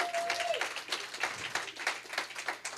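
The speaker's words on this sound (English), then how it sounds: "how about another round of applause for our music ministry?" An Advent Sunday church audience applauds the music ministry with fairly quiet, scattered clapping in uneven bursts, a brief tone sounding at the start.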